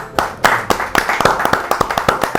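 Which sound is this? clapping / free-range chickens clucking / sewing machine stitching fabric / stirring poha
clapping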